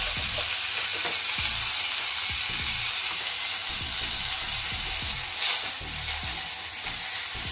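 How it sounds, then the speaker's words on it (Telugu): Sesame seeds roasting in a pan over a medium flame: a dense, continuous crackling hiss with rapid soft scraping from stirring, close and fairly loud, with no voices. "ఇలా మీడియం ఫ్లేమ్ మీద పెట్టి ఇవి వేయించుకోవాలి"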